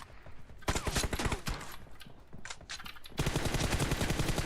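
Gunfire in PUBG team deathmatch, with rapid automatic bursts of loud, close shots in quick succession that build into a dense, continuous fusillade at the end.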